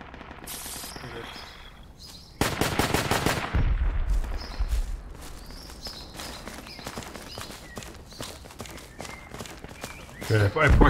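Machine gun fire in the military shooter Project Reality: rapid bursts of sharp shots crackling over ongoing battlefield noise, with one loud, close, sustained burst standing out among scattered distant gunfire.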